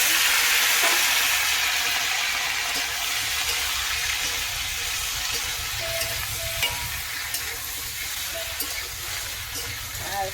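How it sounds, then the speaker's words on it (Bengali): Flat beans and diced potato fry in a pan with a steady, close sizzle throughout, with occasional stirring scrapes and clinks breaking in and faint speech in the background. "তো প্রথমে সিম আলুটাকে ভাজা করবো।"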